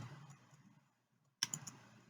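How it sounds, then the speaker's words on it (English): A burst of crisp computer keyboard key clicks breaks a near-silent pause while a Python command is entered, close and brief. "I'm going to type import"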